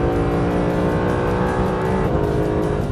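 A Mercedes SLS AMG Black Series accelerates hard in second gear out of a hairpin onto a track's main straight, its engine note loud, close and continuous, rising steadily throughout.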